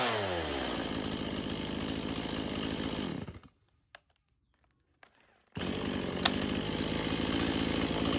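A chainsaw engine fires and runs loud and close, cuts out abruptly into near-silence for a couple of seconds, then roars back to a steady high rev.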